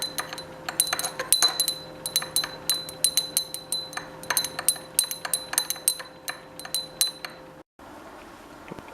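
Glassware clinks and taps again and again at an irregular, busy pace while silver nitrate and pyridine solution is being mixed, close and fairly clear, with a steady faint hum underneath and no talking.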